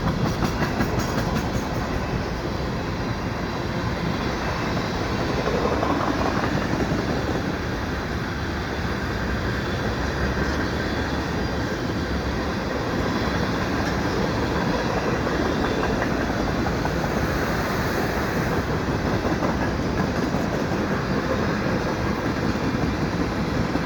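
A CN freight train carrying coil steel cars passes the Des Sources Blvd ramps on a winter night. It gives a loud, continuous, close rumble with steady clickety-clack from the wheels throughout.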